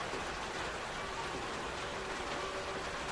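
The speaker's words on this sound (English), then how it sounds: "Rain's coming down." Steady rain falling continuously, a dense even hiss filling the whole moment without pause, no voices over it.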